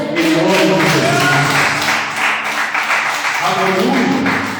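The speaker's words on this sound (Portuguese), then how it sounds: "Se você crê assim, aplaude o Senhor, em nome de Jesus." A church congregation claps and applauds, a broad sustained patter of many hands mixed with a voice speaking over it the whole time.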